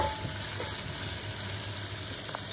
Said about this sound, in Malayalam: നമുക്കൊന്ന് ഉള്ളി വഴറ്റിയെടുക്കാം.